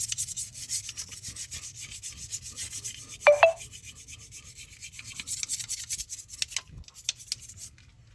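Steady rubbing and scrubbing on a tractor part where the paint has come off, a continuous abrasive friction sound with a short sharp scrape partway through, close up and without speech.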